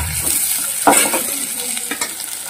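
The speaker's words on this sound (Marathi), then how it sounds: "कांदा आता छान भाजून घ्यायचे आपण याच्यामध्ये" Onion frying in a pan, a steady close sizzle with a spoon scraping and stirring through it in a few distinct strokes.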